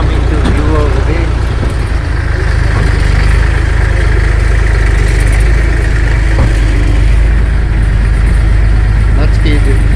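A tractor engine drones steadily and loudly while riding over rough, narrow, steep mountain terrain toward a guano cave, a continuous low rumble filling the whole stretch with faint voices underneath.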